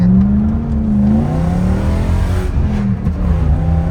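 A BMW with a 4.4-litre V8 accelerates hard during a street race, its engine note climbing in pitch and staying loud and close throughout, with no voices over it.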